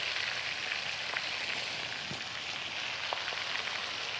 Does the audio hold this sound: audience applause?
no